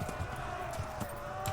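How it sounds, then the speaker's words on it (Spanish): A horse in a video game gallops with quick clip-clopping hoofbeats and a few heavier thuds over a steady background hum and game noise, with no talk. "Salta, caballo."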